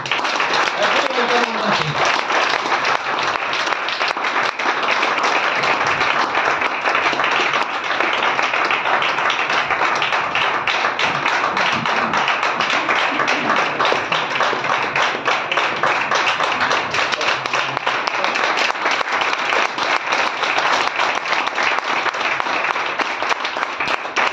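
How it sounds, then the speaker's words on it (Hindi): An audience claps loudly and steadily for a long stretch, welcoming a speaker onto the stage at an income-plan seminar, with dense sustained applause and a voice briefly heard beneath it. "आप सब की जोरदार तालियों के बीच में"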